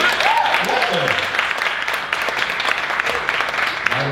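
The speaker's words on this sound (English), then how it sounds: "Round of applause for this gentleman here" Live audience applauding a military veteran, a steady wash of clapping throughout with voices and cheers mixed in.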